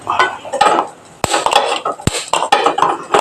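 Lentils (parippu) roast in ghee in a pan for payasam, stirred with a spoon that scrapes and clinks against the metal in quick irregular strokes, close and loud, with no voices.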